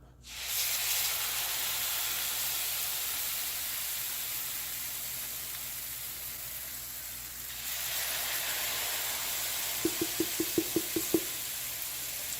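Scoops of tatale plantain pancake batter hit hot oil, setting off a steady loud hiss and sizzle that swells and persists, with a short run of soft clicks near the end and no talking.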